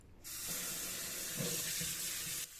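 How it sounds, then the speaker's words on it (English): A kitchen tap opens and runs in a steady hissing stream into the sink to wash potatoes for rösti, close and even for about two seconds, then shuts off abruptly. "I'll start obviously by washing and also peeling the potatoes"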